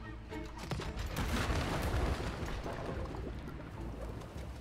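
Continuous loud gunfire in the co-op video game It Takes Two, a dense, steady barrage of shots that runs for several seconds with no one talking.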